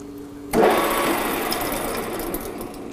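A metal lathe starts a turning cut with a sudden onset, then a steady grinding, whirring machining noise continues at close range, loud and even, with no speech.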